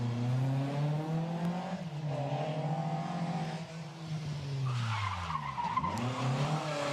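A rally car skids through a hairpin bend on a stage, its engine droning and dipping as the tyres scrub, then revving back up with a sharp squeal near the end, close and loud.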